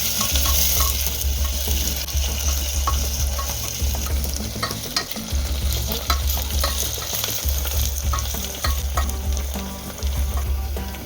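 Onions added to hot oil with bay leaf and garam masala sizzle loudly in a pan, with rhythmic scraping and stirring strokes repeating through the clip, close and continuous with no talk.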